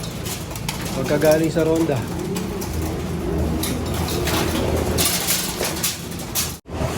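Homing pigeons coming back to their loft after a training flight give close, soft cooing calls with fluttering and clatter around the loft, while someone talks over them.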